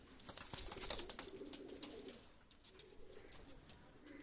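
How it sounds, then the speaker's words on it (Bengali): Pakistani high flyer pigeons are let go, giving soft, fairly faint cooing and brief fluttery bursts, loudest in the first second and then tapering into scattered coos. "দুইটা কবুতর আমি ছেড়ে দেখাচ্ছি দেখেন"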